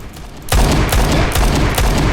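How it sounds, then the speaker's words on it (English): Gunfire from a revolver in a first-person video game shooter: a loud, abrupt blast, then sustained dense booming reports with a few sharper peaks, continuous and close, with no talking. "So the only way to use the revolver is to space shots."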